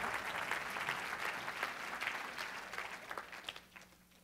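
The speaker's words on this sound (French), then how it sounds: "Est-ce qu'on peut leur donner une main d'acclamation" A church congregation applauding, a dense burst of clapping from many hands that fades out over a few seconds, moderately near and alone without talking.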